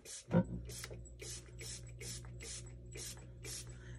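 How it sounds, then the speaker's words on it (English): An electric pottery wheel hums steadily while a dry bowl is trimmed, with a short spray burst near the start and regular scraping strokes repeating about twice a second over the motor drone. "So I'm going to spray it just a little bit more turn my wheel on here."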